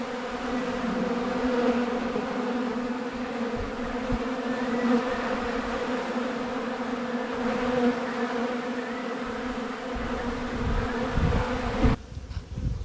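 A swarm of honeybees hums around a beehive that is short on frames, a dense, steady buzzing drone that stays loud and close throughout without speech.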